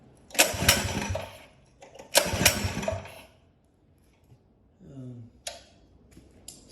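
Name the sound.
Predator 212 engine with Mikuni carburetor failing to start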